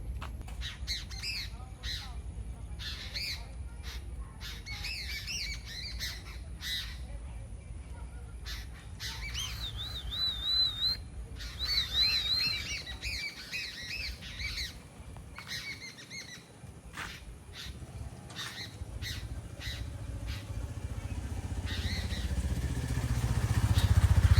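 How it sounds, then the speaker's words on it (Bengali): Birds squawk and chirp in repeated bursts among the trees of a botanical garden in Mirpur, Dhaka, with a steady low background rumble that swells toward the end. "পাখির কিচির মিচির শব্দ শুনতে ভালো লাগে"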